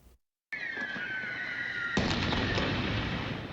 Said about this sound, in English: Gunfire and explosions disperse a crowd of peaceful protesters in Russian-held Energodar Saturday